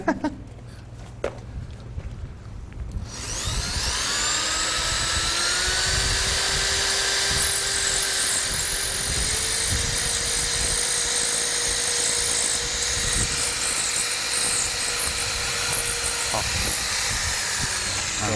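A high-pitched power drill whines steadily for most of the clip after a few seconds of faint rustling, its pitch shifting slightly as it bores into a Conwood fiber-cement board planter.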